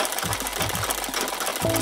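A sewing machine embroiders a fine satin-stitch outline around a fabric flower, giving a fast, steady mechanical whir with rapid needle pulses throughout, close and fairly loud with no talking.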